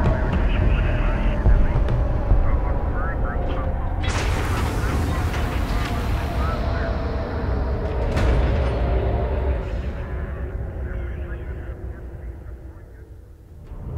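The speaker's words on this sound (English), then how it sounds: "Halcyon aircraft on approach." Halcyon aircraft approach in the real-time strategy game Homeworld: Deserts of Kharak, a steady low engine drone swelling into a loud broadband jet roar midway, over continuous rumbling battlefield ambience.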